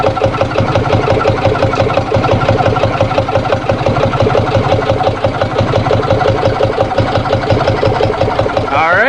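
A Yanmar diesel engine idles slowly at its lowest speed, a loud, steady, even chugging knock that holds throughout, with a brief rising sound right at the end.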